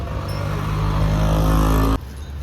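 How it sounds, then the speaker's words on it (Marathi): A motor vehicle passes close to a roadside stall: a loud, throbbing engine rumble builds for about two seconds, then drops off sharply to quieter background noise. "गाडी आहे बघा गाडी आहे बघ"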